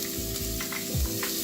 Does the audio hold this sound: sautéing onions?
yes